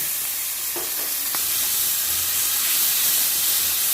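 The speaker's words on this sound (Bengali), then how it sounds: "তেলের সঙ্গে মশলাটা একটু নিয়ে নিচ্ছি" Ginger, garlic, onion and tomato paste frying in hot oil for a Bengali prawn malai curry, a steady close sizzle and hiss with a few soft stirring scrapes early on, no voices.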